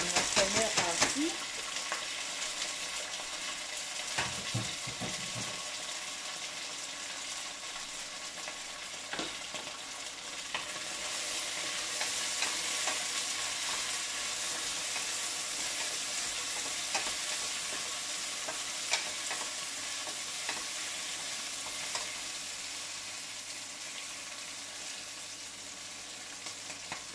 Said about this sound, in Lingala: Mafuta na ngai ezwi moto natie gombo na nga première partie.